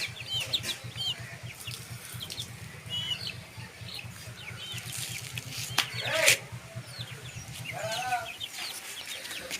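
A group of eight two-month-old Bhimavaram chicks, mostly young roosters, peeping and clucking close by with a few sharp chirps and a louder call midway, over a low rhythmic background hum.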